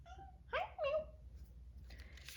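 Willow the cat meows twice in quick succession, close and clear, each call rising then falling, over a quiet room hum with faint rustling afterward.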